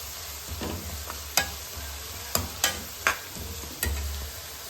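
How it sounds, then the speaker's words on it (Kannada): Mustard seeds and lentils sizzle in hot oil for tempering alongside frying onion, a steady soft crackle punctuated by several sharp pops and spoon scrapes against the pan. "ಒಗ್ಗರಣೆಗೆ ಸಾಸಿವೆ ಬೇಳೆ ಹಾಕೋತೀನಿ ಆಮೇಲೆ ಈರುಳ್ಳಿ ಫ್ರೈ ಮಾಡಿಕೊಂಡು"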